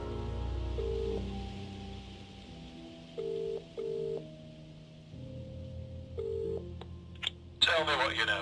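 Telephone keypad tones dialed in short bursts on a phone in a phone box inside a game, with a steady hum and music underneath, ending in a burst of noise.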